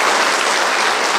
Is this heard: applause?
yes